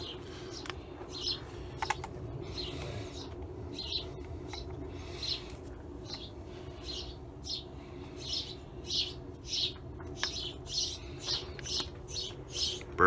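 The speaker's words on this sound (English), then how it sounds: "Birds are going. We got a bird's nest up here." Small birds chirp repeatedly from a nest overhead, sharp bright calls in a quickening series over a low steady background hum, fairly close.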